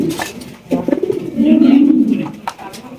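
A pair of fancy pet pigeons coo at close range, a soft throaty rolling call that swells and holds for a second or so, with a few brief murmurs around it.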